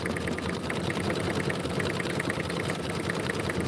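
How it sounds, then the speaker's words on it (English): A sewing machine stitching with a worn needle, a fast, even mechanical chatter with a dull thumpy beat running steadily throughout, close and fairly loud. "I have not changed my needle in a while. It sounds kind of thumpy."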